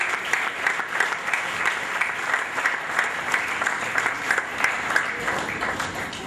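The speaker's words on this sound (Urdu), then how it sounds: "بہت ساری تالیاں" An indoor audience at an evening event with a gold-medallist athlete applauding warmly, steady loud clapping from many hands filling the whole stretch.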